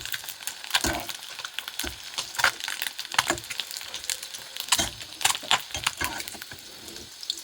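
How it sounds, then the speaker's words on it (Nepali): Eggs frying in a pan for an egg curry, a steady close sizzle with scattered crackles and pops recurring throughout, no talking. "अब चाहिँ म अन्डा फ्राई गर्दैछु"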